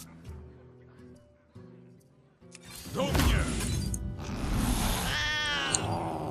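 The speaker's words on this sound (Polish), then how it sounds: "To kot Keltuzana." Kel'Thuzad's cat meows in the Hearthstone card game: a quiet musical stretch of game sounds gives way to a loud cat vocal with effects, followed by a rising, wavering meow.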